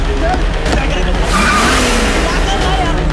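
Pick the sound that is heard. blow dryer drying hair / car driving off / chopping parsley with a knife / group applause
car driving off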